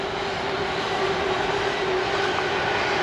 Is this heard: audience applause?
no